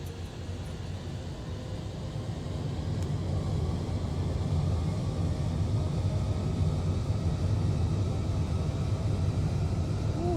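Steady, loud aircraft engine roar building during takeoff in a flight simulator game, a continuous low rumble that swells slightly in the first few seconds and then holds level with no speech.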